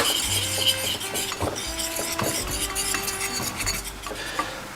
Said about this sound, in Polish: taką rózgą musimy to wymieszać tak, żeby nie było grudek